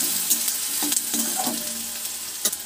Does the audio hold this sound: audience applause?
no